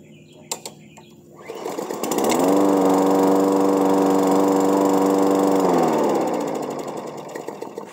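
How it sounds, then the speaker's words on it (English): A HyperTough 125cc walk-behind lawn mower fires on a pull start, its small engine quickly settling into a loud, steady, buzzing idle close by for several seconds before winding down. "The motor runs real good. I'll start it up for you guys real quick."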